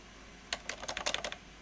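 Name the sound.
typing on a mechanical computer keyboard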